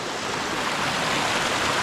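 Waterfalls on the Isle of Skye in Scotland, a steady broadband rush of falling water, constant and fairly close with no voices.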